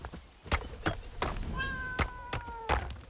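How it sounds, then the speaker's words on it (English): In the video game Satisfactory, an unhappy cat creature meows nearby: a few drawn-out cries stand out over sharp thumping impacts and a faint background ambience. "there's a cat nearby that's not very happy with my presence"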